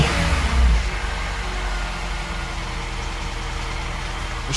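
A car engine idles with a steady low rumble, close and fairly loud, with a brief throttle blip near the start before it settles back to an even idle.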